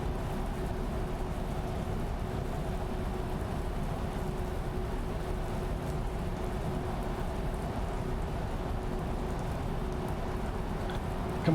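Steady rain pours in Euro Truck Simulator 2 while a truck drives on, a constant even hiss over a low engine hum for the whole stretch, with no voices.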